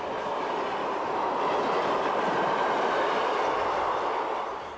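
A train rolls past on a Swiss railway line, a steady broadband rumble and rush of wheels on track that swells and holds, then begins to fade, with no voices.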